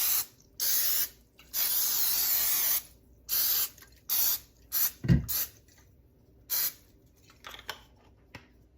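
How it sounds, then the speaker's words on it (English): Short hissing bursts of non-stick cooking spray onto a baking dish, about a half-dozen separate sprays of uneven length with brief pauses between, close and fairly loud, with a soft knock partway through. "I'm going to spray this baking dish with some non-stick cooking spray."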